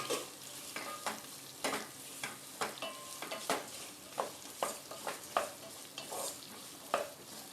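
Slightly ripened raw mango sautéing in a pan for chutney, with a soft sizzle under repeated scraping stirs of a spoon against the pan, close and without talk.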